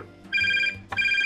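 An electronic phone ringtone in the game Octodad: Dadliest Catch, heard in two bright, steady bursts a little over a second long, loud and close, with a faint backing hum underneath.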